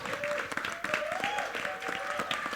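Steady applause from an audience at the Silence 2 trailer launch event, dense and continuous, with voices audible under the clapping.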